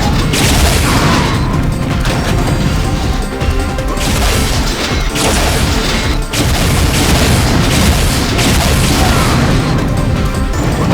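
Rocket and grenade explosions in the multiplayer shooter Unreal, a dense, loud, continuous barrage of booming blasts and crashes with brief dips between volleys, no talk heard.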